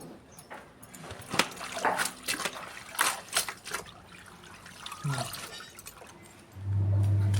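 Mahua (madhuca) greens being washed in water, with light splashing and trickling sounds in irregular bursts, followed near the end by a steady low hum.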